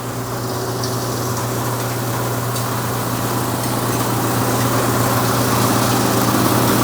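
A BDG Compact 1 mini granulator runs steadily, its motor giving a loud, continuous droning hum with a grinding rattle and blower noise that builds slightly over time, with no voices.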